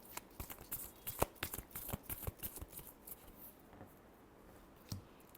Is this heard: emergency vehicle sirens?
no